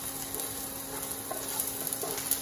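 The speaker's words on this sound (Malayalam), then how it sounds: "ഇപ്പോൾ അടുത്തതായിട്ട് ഞാൻ ഇപ്പോൾ വെളുത്തുള്ളി ഇട്ടു. അതും കൂടി ഒന്ന് നന്നായിട്ട് തന്നെ ഇറക്കി കൊടുക്കാം" Garlic sizzling steadily in a hot pan while red snapper is cooked in a Thai-style dish with desi ingredients, with faint stirring scrapes over a constant close frying hiss.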